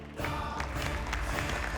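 A Thai game show studio audience applauds and cheers a returning champion, a dense, steady wash of clapping and crowd noise that swells after a brief quiet start and holds loud throughout.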